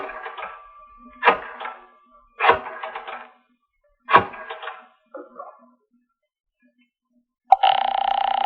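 Telephone ringing in an old-time radio drama, heard as three or four separate rings spaced about a second and a half apart, then a short faint burst and a sudden loud sustained tone at the end.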